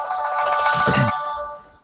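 A phone ringtone rings out loud and near, a bright electronic melodic tone that holds for a moment and then quickly fades off as it is silenced.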